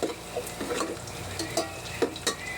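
Garlic sizzles in a pan while goat papaitan is cooked, with soft frying crackle under a few sharp clicks and scrapes of a utensil stirring against the pan, close and fairly quiet.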